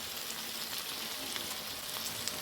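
Carrots and capsicum fry in a pan with red chili powder, giving a steady, close, even sizzle with faint crackles and no speech.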